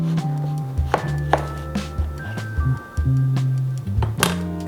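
A knife cuts through watermelon on a board in a series of distinct chops and thunks at irregular intervals, close and clear.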